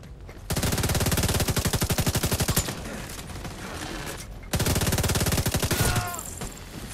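Rapid automatic rifle fire in the video game The Division 2, loud close bursts of fast-firing shots, one long string then a pause with scattered effects before a second burst.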